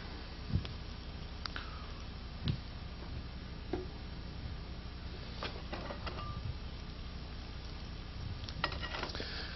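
Veggie burgers brown in a frying pan with a faint, steady sizzle, broken by occasional soft clicks and taps.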